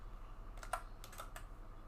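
Close, quiet clatter of typing on a computer keyboard, two short bursts of rapid keystrokes over faint background hum.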